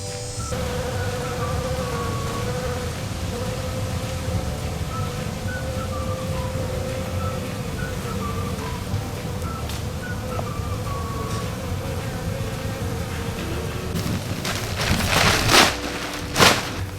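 Honey bees that have nested inside a bird house, full of comb and larvae, hum in a steady, dense drone throughout, with a few louder rustling bursts near the end.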